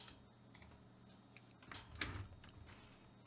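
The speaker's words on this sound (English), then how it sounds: "I'm pressing the keys." Computer keyboard keys pressed while testing player controls in a game demo, giving quiet scattered clicks and taps in an irregular rhythm over a faint background hum, with no voices.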